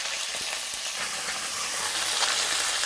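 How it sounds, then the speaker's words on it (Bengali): Fish frying in oil, a dense, steady hiss of bubbling fat heard up close, with faint crackles now and then and no voices. "দিয়ে মাছগুলো সব ভেজে নেবে।"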